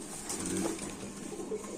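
A pigeon coos softly and briefly at a market stall, low and close against a steady background hiss, with no talk over it.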